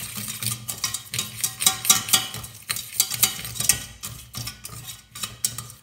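Butter and flour roux cooking in a pan while being stirred, a close rhythmic scraping and soft sizzle in repeated strokes, with light utensil clinks and no talking.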